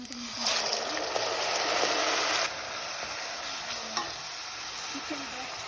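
Onion, garlic and ginger sautéing in a pan, a loud hissing sizzle with stirring scrapes that drops to a quieter steady fry partway through.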